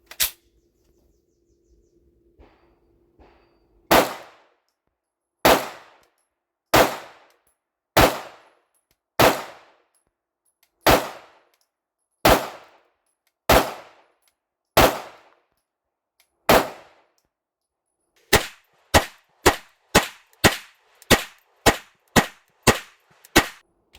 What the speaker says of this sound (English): So we're going to start with the first 10 rounds of just normal fire.